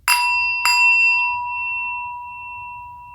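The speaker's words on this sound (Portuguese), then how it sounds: "você pode usar um sino ou algum outro objeto para fazer um som" Two strikes of a meditation bell, the second about half a second after the first. Each rings out clear and bright, then decays in a long, sustained tone over a soft low hum.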